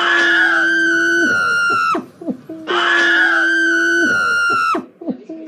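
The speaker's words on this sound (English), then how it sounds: "everyone screaming and running away" People scream in panic in two long, loud, sustained cries, each breaking off into short gasping yelps and rustling before the screaming starts again.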